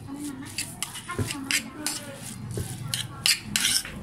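Mashed tofu being mixed with moringa leaves in a bowl, with scraping spoon strokes and light clinks of utensil against the dish, close up, under a voice talking.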